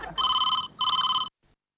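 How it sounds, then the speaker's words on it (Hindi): A telephone rings twice in quick electronic bursts, clear and close, then stops. "फोन उठाइए फोन"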